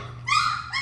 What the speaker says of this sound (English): These are Dancer's puppies.